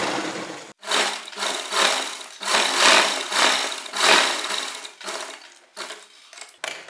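Sewing machine stitching fabric for an umbrella-cut Anarkali kurti: several fast, close mechanical bursts of whirring and clatter separated by short stops, each run lasting about a second.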